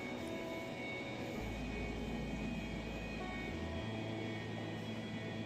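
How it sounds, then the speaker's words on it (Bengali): A mail train passing over Badkulla railway station, heard as a steady, loud rumble with a deep low drone and broadband roar that continue throughout. "আমাদের বাতকুল্লা স্টেশনের উপর দিয়ে একটা মেল ট্রেন"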